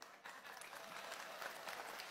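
Clapping from the audience at an Islamic religious gathering (pengajian) rises quickly after a brief pause and holds steady. It sounds faint and distant, with a dense wash of hands.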